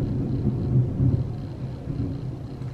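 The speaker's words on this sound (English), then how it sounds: "Sorry if you hear the thunder." Thunder from a storm outside, heard from indoors as a deep, muffled rolling rumble that swells and fades over a few seconds, low and continuous, with no talking over it.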